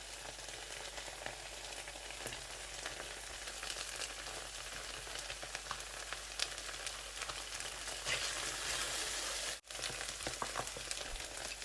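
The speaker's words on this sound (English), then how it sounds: "I'm going to use it to mix it a little." Egusi soup with meat stock simmers and sizzles steadily in a pot while being mixed, a dense, even crackling hiss running throughout, close up and without voices.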